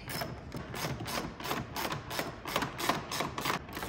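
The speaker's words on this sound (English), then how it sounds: "Get the nut started by hand, and then throw it on with the ratchet." A quarter-inch ratchet with a 10 mm socket snugs down a grille nut on a 2022 Ford F-350 King Ranch, giving a quick, close run of rhythmic clicking strokes at moderate volume with no speech.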